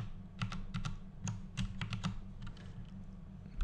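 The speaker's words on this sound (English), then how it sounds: "You can hit S on your keyboard to split your media" Keys clacking on a computer keyboard while editing in Sony Vegas Pro, a quick run of sharp clicks at close range over a low steady hum.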